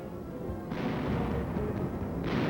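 Wartime tank and artillery fire during the infantry advance on Mount Porcia in January, a dense, continuous rumbling roar of distant guns with heavier swells, and no voices.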